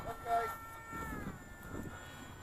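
A Ritewing Hardcore 38 RC model plane engine running outdoors, a steady whining drone that holds a sustained pitch with a slight rise, moderately loud over wind and low rumble.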